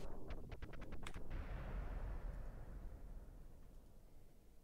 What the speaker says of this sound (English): And solid rocket boosters are out.